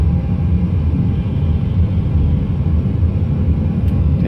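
Airliner jet engines held at takeoff thrust during the takeoff roll, a loud, steady, dense roar with heavy low rumble that fills the cabin without letup.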